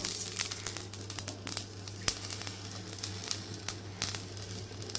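Mustard and radhuni seeds fry in oil for an ash gourd shukto, making faint, irregular crackles and small pops over a soft sizzle, with no talking.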